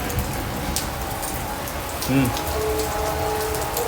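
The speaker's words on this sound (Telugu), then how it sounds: "వర్షం అయితే ఫుల్ వర్షం పడుతుంది." Heavy rain falls steadily as a constant dense patter close by, with a brief louder splash or clatter midway and some faint background noise.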